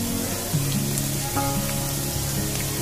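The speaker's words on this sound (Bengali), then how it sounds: "চেপে চেপে ভেজে নিই আমি" A snack frying in a pan while being pressed down, giving a steady, close, loud sizzle with a few soft bumps from pressing.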